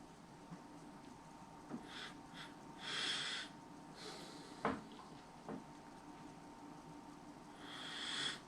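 Several short sniffs of a Samuel Adams Boston Lager's aroma during a tasting, close to the microphone and quiet, spread out with gaps in between, with faint breathing and no talk.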